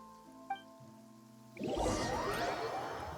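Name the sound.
rain in video game Genshin Impact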